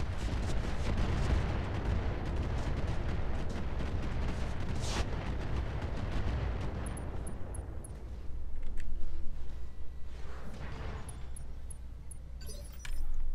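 Mech weapons in Roguetech firing Inferno ammo, a dense, loud barrage of booming and crackling fire that rumbles continuously, with a brief sharp burst midway and a heavier surge near the end.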